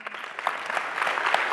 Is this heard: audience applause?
yes